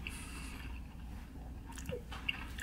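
Someone bites and chews a burrito with jalapeño, producing faint, close moist crunching and squishing mouth sounds against a quiet steady background.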